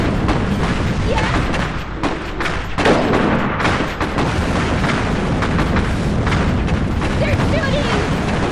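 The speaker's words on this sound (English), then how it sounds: "They're shooting! Right away!" Heavy gunfire and artillery blasts roar continuously in the World War–era strategy game Iron Harvest, with dense booms and crackling shots layered loudly throughout a battle.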